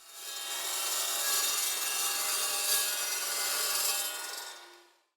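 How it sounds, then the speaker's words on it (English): A powered chop saw cuts through rods for a compression fixture for LFP battery cells, a steady, loud, close grinding whine that lasts about four seconds and then winds down to silence, with no speech. "Now I realize you guys may not have a fancy chop saw like I do"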